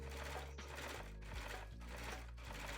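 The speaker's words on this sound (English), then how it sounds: "I'll be using a serging machine to finish all of the raw edges" A serger hums and chatters quickly as it finishes the raw fabric edges of wide leg trousers, a steady close machine drone with rhythmic pulses.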